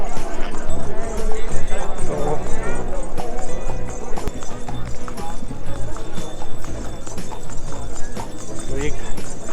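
A mare walking on the Ridge in Shimla, hooves clip-clopping in a steady uneven rhythm under busy outdoor crowd noise and voices, with people talking loudly throughout.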